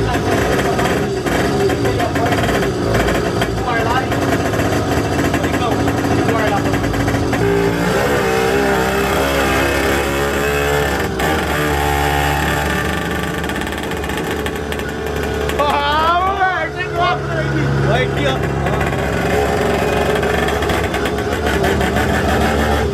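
A 100cc motorized bicycle engine runs on a dynamometer with a loud, continuous, buzzing roar that rises and falls in pitch as it revs hard, while people shout and talk over it.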